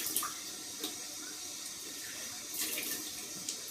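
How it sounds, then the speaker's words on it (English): Cold water running steadily from a bathroom tap into a sink while someone rinses their face after shaving, a continuous close hiss with a few small splashes. "Turn on the cold water to wash my face off."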